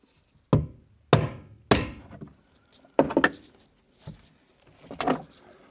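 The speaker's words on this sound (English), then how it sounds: "This ring needs knocking anti-clockwise to release the top off the tank." Sharp metallic knocks hit the fuel tank locking ring of a Jaguar XK8, five or six separate blows spaced about a second apart, close and fairly loud with brief ringing decay between them.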